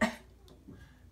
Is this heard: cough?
yes